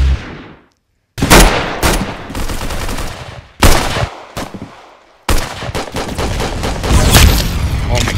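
Gunfire from the Roblox game Arsenal in its Christmas update, loud bursts of rapid automatic shots broken by short pauses, with faint talk underneath.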